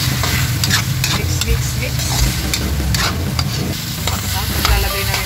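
Chopsuey with chicken, liver and vegetables is stirred in a sizzling pan, with a spatula scraping and clattering over a constant loud frying hiss.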